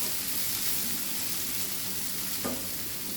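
Chili powder and masala fry steadily in a pan on a low flame, a soft continuous sizzle close by with one brief scrape of stirring.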